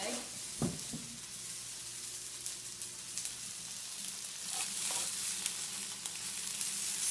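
A steady frying sizzle hisses from a pan as noodles are laid over an egg while making okonomiyaki, with a couple of soft clunks near the start and the crackle continuing evenly throughout.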